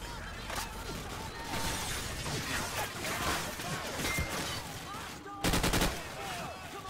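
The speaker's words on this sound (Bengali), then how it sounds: "হেভি বন্দুক চলছে" Heavy gunfire from Call of Duty 4: Modern Warfare rattles in dense, rapid bursts that run almost without pause, closing with a brief sharper volley.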